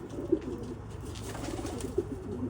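White racing pigeons coo softly in a loft, a couple of low throaty calls rising briefly above a steady rustling background.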